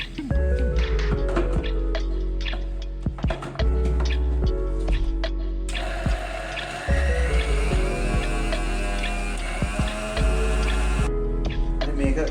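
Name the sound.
blender blending garlic for garlic gravy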